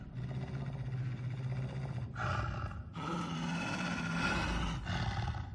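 Deep, rough roaring and growling from a wolf creature in the VR horror game The Inpatient, sustained and close, with a harsher, louder surge partway through and no talk over it.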